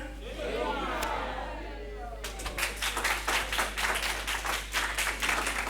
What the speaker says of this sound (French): On applaudit quand même, s'il vous plaît.